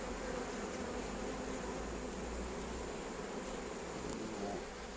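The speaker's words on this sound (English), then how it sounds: "bees on there." Bees buzz in a continuous, even drone, fairly close, with no voices.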